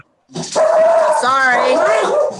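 A person vocally imitating a dog, giving one drawn-out, whiny bark-like yelp close to the microphone during a lively online game session.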